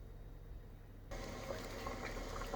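Water boiling in a cooking pot for potatoes in a Kenyan mokimo recipe, a quiet steady bubbling hiss that swells suddenly about a second in and continues evenly, heard alone.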